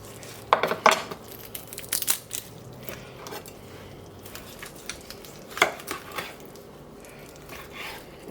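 A sharp kitchen knife cuts through the ribs along the back of a raw chicken: irregular crunchy snaps and cracks in short bursts, close and fairly loud, with soft handling noises between them.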